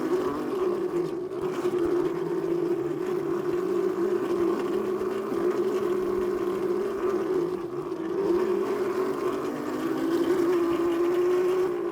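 A Yozma IN 10 electric dirt bike rides along a trail, giving a steady motor hum and whine with rolling wind and tire noise that stays fairly constant, with no talking.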